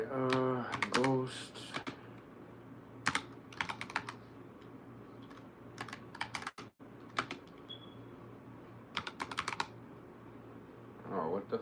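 Computer keyboard typing in quick bursts of clattering keystrokes, close and fairly clear, with pauses between runs over a low steady background hum.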